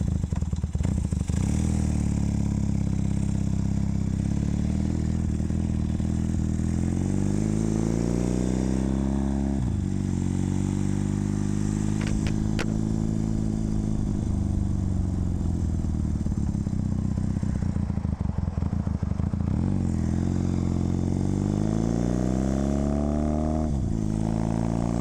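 Kawasaki KZ400 tracker-style motorcycle engine running at a steady, loud idle up close, with its low harmonic drone rising and falling in pitch a few times across the clip, no talking.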